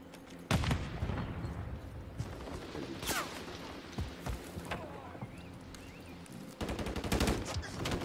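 Automatic gunfire from Call of Duty: Modern Warfare 3 cracks out in loud bursts at the start, around three seconds and again near the end, over steady game noise and background chatter.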